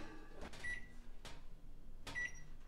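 An oven door is handled in a quiet kitchen while oil-free roasted potatoes with tofu are being cooked, with a few soft thuds and clunks spread across a low background hum.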